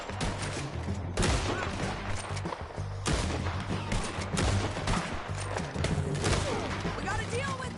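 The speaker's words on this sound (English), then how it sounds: "Let's just start shooting." Gunfire in the video game Red Dead Redemption 2, loud repeated volleys of shots and crackling fusillades rolling over a steady low rumble, with no break across the stretch.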